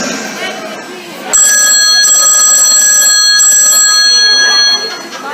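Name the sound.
telephone ringing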